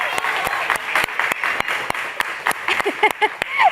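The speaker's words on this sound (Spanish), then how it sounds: "un aplauso para todos, por favor" A studio audience at a Spanish-language Bible quiz show applauds, with loud, uneven clapping and sharp individual claps, and a voice speaks over the end.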